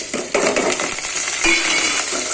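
Garlic, dried red chillies and curry leaves frying in oil in a pan for a Telugu okra stir-fry, a loud steady close sizzle with a few scraping stirs and light clinks.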